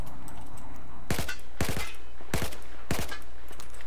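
Four bursts of Battlefield 4 gunfire ring out at roughly even intervals, each a sharp, loud volley of rapid shots, with a steady low game-world background hum underneath and no talking.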